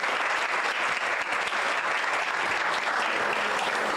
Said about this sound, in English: Let's give a round of applause to Mega Care.